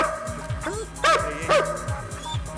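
A sniffer dog gives several short, sharp barks and yips, about three distinct calls spaced over a couple of seconds, close and clear over backing music.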